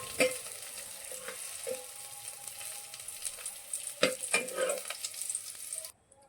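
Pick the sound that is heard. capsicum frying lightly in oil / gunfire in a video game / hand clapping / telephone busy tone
capsicum frying lightly in oil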